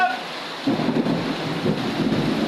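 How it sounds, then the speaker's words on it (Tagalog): A deep rumble of thunder rolls in over a steady wash of heavy rain, loud and close throughout. "Lakas ng ulan."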